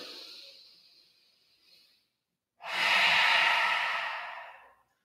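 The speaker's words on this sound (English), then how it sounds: "We're going to take three deep breaths." A slow inhale through the nose, a brief pause, then a loud, forceful open-mouthed exhale, close up during a yoga breathing exercise.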